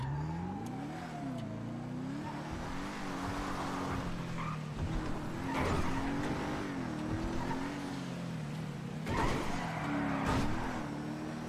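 A car in GTA 5 spins out after a sudden boost, its engine revving with rising and falling pitch sweeps while tyres skid, loud and close throughout.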